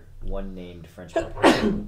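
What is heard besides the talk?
sneeze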